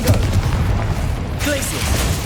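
A Confringo fire spell goes off in the Hogwarts Legacy video game, a burst of booming impact over steady game noise, with a second, smaller pop near the end.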